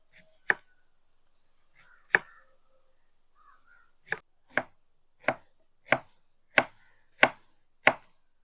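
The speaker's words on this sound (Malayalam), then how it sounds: "വഴുതനങ്ങ നമുക്ക് ഇങ്ങനെ വേണം അരിഞ്ഞെടുക്കാൻ." Knife chopping eggplant on a cutting board for a Kerala curry: nine crisp, sharp cuts, several isolated early on and then a steady evenly spaced run, close and clean with near silence between.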